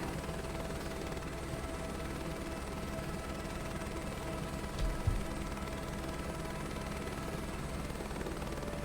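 Helicopter rotor and turbine drone in Microsoft Flight Simulator 2024, flying low over crops while crop dusting, a steady continuous whine and chop with one brief thump midway, no talk.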